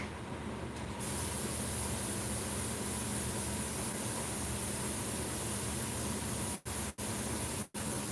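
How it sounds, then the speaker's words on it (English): Continuous loud hiss of an airbrush spraying Weldwood contact cement to form cobwebs, steady and close, broken by a few abrupt on-off cuts near the end; no voices. "you can use this type of airbrush and regular weldwood contact cement and get webs too"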